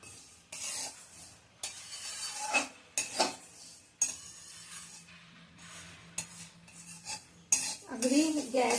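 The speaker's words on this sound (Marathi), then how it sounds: "सतत हलवत तीळ भाजायचे, म्हणजे सगळीकडनं सारखे भाजले जातात." Polished sesame seeds roast in a pan over low heat while a spoon stirs them constantly, giving a run of close, dry scrapes and metallic clinks separated by short pauses.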